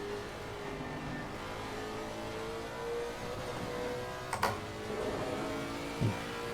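Aston Martin V8 race car engine in Assetto Corsa Competizione drones steadily at racing speed, a constant engine roar with a couple of brief sharp clicks or shift blips near the end.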